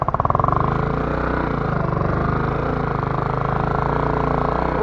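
An overheated motorcycle struggles along a rough, dug-up village road in Nepal, its engine giving a steady, close, throbbing drone with a fast pulsing rhythm that holds for the whole stretch.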